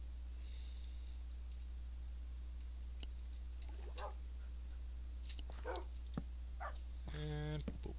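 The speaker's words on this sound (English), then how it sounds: "My dogs are silly." Pet dogs in a Minecraft game, with faint snorting, clicks and a short whimpering yelp near the end over a steady low hum, with talk.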